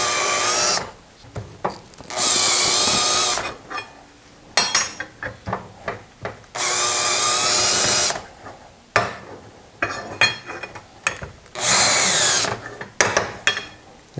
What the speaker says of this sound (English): you either take a larger drill or a countersunk bit, and you just clean up the burrs